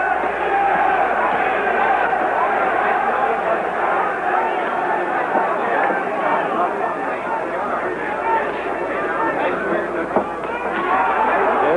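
Boxing crowd at a 1966 Muhammad Ali versus Karl Mildenberger bout, roaring in a loud, continuous wash that swells and recedes under a commentator's voice.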